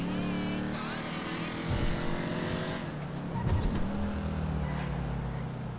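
Car engine from GTA 5 Online, a Sentinel being driven fast, droning steadily with shifting pitch as it accelerates and turns, close and continuous throughout.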